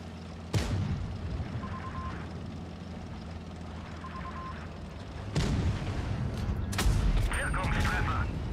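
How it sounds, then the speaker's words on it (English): Rocket-firing gun launcher on a tank in World of Tanks Blitz, heard as a few sharp booming shots over a steady engine and battle rumble, with a louder burst of fire near the end. "That's a gun launcher. It's shooting rockets."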